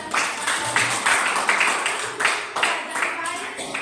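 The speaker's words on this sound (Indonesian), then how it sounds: "kita berikan tepuk tangan" A group at an Indonesian parenting-education training session claps for a presenting group, a short burst of uneven claps with someone talking over it.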